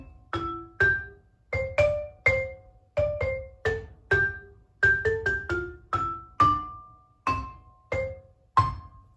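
Vibraphone played without the dampening pedal, about twenty short mallet strikes in an irregular melodic line, each note ringing briefly with a metallic tone and decaying quickly, close and clear with no talking.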